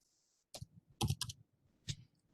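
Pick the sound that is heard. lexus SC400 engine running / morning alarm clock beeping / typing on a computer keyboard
typing on a computer keyboard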